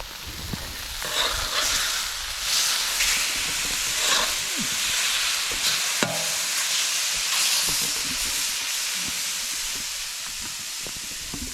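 Steak cooks on a hot grill at a holiday park, a continuous sizzling hiss filling the scene at moderate volume with small crackles and faint background noises.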